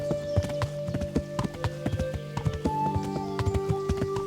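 Horse hooves clip-clop in a steady, close, moderately loud trotting rhythm while riding in the video game Kingdom Come: Deliverance, with a faint tonal game ambience underneath and no talk.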